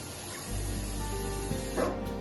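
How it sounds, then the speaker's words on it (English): Water running and splashing as sprouts are gently rinsed, a steady close hiss that swells slightly near the end. "So I'm going to rinse it."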